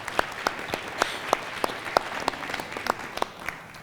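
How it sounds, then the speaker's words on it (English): Applause for donors at a Vail Symposium event: a thin, scattered round of individual claps, sharp and evenly spaced, moderately near and not very loud. "Let's give all of our donors a round of applause"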